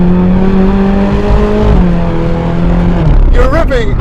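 Naturally aspirated V8 of a Ferrari California revving hard through corners, loud and close, with sustained engine tones rising and shifting as it works through gears, someone talking over it.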